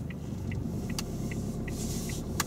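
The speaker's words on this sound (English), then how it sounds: "we have got a car coming behind us now, Tony" A car rumbles steadily behind on the road, heard from inside a moving vehicle as a continuous engine and tyre drone, with light ticking indicator clicks repeating on top.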